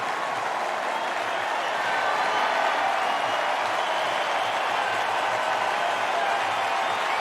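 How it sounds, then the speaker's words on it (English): A stadium crowd of Fremantle Dockers supporters at Subiaco gives a sustained standing ovation after a record opening quarter, a steady roar of applause and cheering that holds evenly at full volume throughout. "Docker fans stand and cheer."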